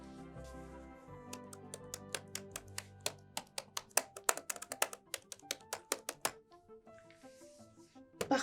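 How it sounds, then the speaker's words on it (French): A woman types on a computer keyboard at an office desk, a quick run of crisp, close key taps in uneven bursts with brief pauses, heard alone over a soft musical background. "elle tape et retape encore sur les touches de son ordinateur"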